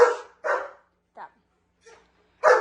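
German Shepherd dogs bark close and loud: a few sharp barks, two softer short yips in the gaps, then one more full bark at the end.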